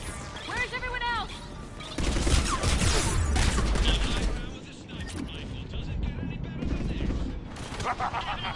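Gunfire in Mass Effect 3, a dense rattle of rapid weapon shots with mechanical clatter, heaviest through the middle, mixed with shouting voices and combat noise.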